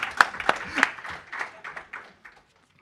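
An audience at a university research day event claps, with a few sharp claps followed by a scattering of lighter applause that fades out within a couple of seconds.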